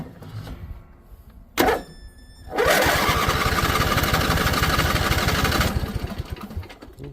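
A Craftsman YT4000 riding mower cranks briefly, then its engine catches and runs loud and close with a steady rough drone for several seconds before dropping off sharply.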